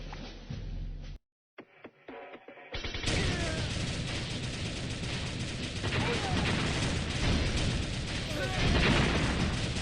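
A tank video game fires a dense barrage of rockets and explosions. A short burst comes first, then a near-silent gap, and then a loud, sustained roar of blasts and impacts, with a voice speaking over it.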